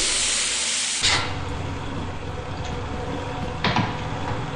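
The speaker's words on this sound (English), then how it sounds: "Oh, steam leak. It's a leak." Steam leak hissing in the video game Lethal Company: a loud, continuous broadband hiss with sharper bursts at the start and near the end, heard close by.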